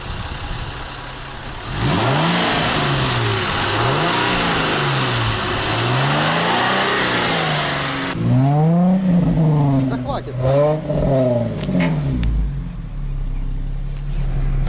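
An Infiniti car engine revs up and down in repeated rising and falling swells, loud and close, with someone speaking briefly over it near the end.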